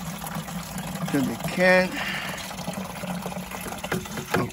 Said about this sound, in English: So I'm going to allow water to run in